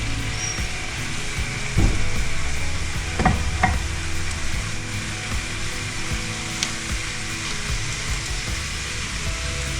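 Carrots go into a hot pan and fry with a continuous close sizzle, a few sharp utensil knocks and scrapes early on, then steady crackling.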